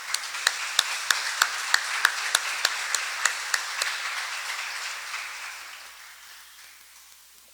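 A congregation at a Palm Sunday Mass claps for a woman's 25th birthday; about a dozen sharp, evenly spaced claps ring out over a softer crowd wash that fades away over several seconds.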